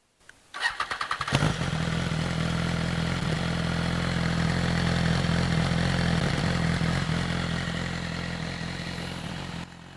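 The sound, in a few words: BMW S1000RR motorcycle with Taylormade exhaust starting up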